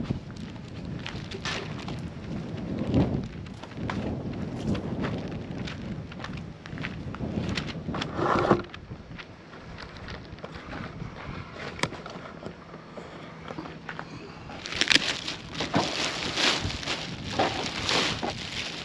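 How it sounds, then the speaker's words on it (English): Wind blows hard outdoors and rumbles and buffets against the microphone in uneven gusts, with some handling and rustling noises and a stronger burst near the end. "Wind has just really picked up."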